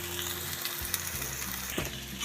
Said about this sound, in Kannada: ಕಡಿಮೆ ಉರಿಯಲ್ಲೇ ಫ್ರೈ ಮಾಡ್ಕೋಬೇಕು.